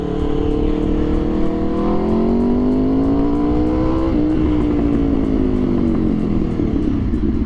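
An Aprilia RSV4 sport motorcycle fitted with a Leo Vince exhaust revs up close by, its pitch climbing and then dipping and rising again in a loud, continuous engine roar, outdoors in Santa Monica, California.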